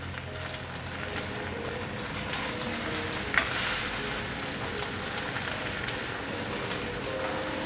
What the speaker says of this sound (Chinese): 另一面再让它慢慢的煎